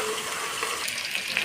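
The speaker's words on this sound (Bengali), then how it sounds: "কাঁচকলা আলুটা ভেজে নেব ভালো করে।" Green banana and potato pieces fry in hot oil in a Bengali home kitchen, giving a steady, close sizzle and hiss with light crackles and occasional stirring that grows slightly toward the end. No one speaks.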